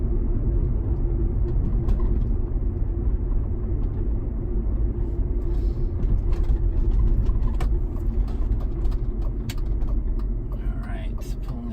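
A 2003 BMW E39 sedan rolls along and pulls into a driveway, with a steady low engine and road rumble inside the cabin, broken by occasional clicks and small knocks, and a voice speaking near the end.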